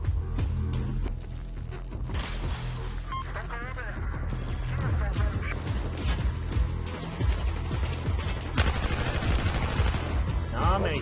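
Sustained bursts of pistol and machine-gun fire in Battlefield 4, a video game, crackle on and off throughout, loud and close, over a continuous rumbling battle backdrop, with someone speaking at times.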